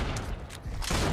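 Gunfire from a CW FAL rifle in the Killing Floor shooter game, a rapid burst of loud, close shots over about a second.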